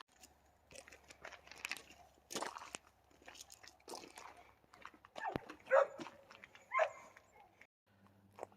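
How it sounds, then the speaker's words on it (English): A dog barks and whimpers in the background amid scattered rustling and crunching, the sounds coming in uneven bursts of moderate loudness. "you have to excuse the dog in the background"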